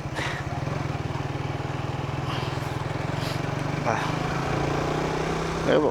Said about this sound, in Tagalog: rinig na rinig yung makina ng motor